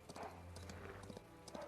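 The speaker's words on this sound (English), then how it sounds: "get on your horse and run this way" A horse gallops in the video game Chrono Odyssey with quick, close clip-clop hoofbeats in a steady rhythm, joined by a brief whinny and a low game soundtrack underneath.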